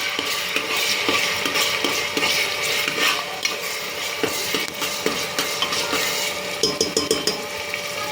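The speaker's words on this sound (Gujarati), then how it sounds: "લસણની પેસ્ટ પણ હું અંદર એડ કરું છું ને આને હું 2 મિનિટ માટે સાતળી લઈશ મસાલાને." Garlic paste and spices sauté in a pan while a spoon stirs and scrapes, with a steady sizzle under repeated metallic taps and clinks, close and fairly loud, no talking.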